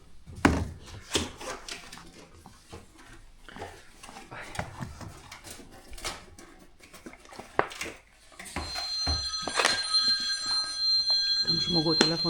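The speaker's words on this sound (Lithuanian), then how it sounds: "Tam žmogau telefons netils nikumet." A telephone rings in a busy indoor room, its bright repeated tones coming in during the last few seconds over clatter and people talking, with scattered knocks and handling noises before it.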